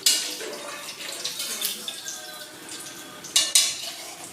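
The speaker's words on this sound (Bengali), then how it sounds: "দেখো মাছগুলো আমি এখানে দিয়ে দিচ্ছি।" Fish go into a cooking pot: soft splashing and sizzling with a few sharp clinks of utensils on the pot, fairly quiet and close by.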